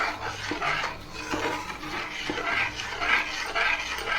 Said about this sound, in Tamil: இதை நல்லபடியே கிண்டி விட்டுக்கிட்டே இருக்கும்